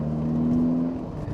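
A Ferrari engine hums steadily close by with a sustained tonal drone, a short continuous burst without any voices.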